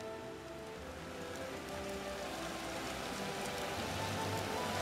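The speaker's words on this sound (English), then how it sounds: "That's hail, people." Hail falls steadily during a thunderstorm, a continuous dense patter of ice striking surfaces that stays even and moderately distant, slowly growing a little louder with no voices over it.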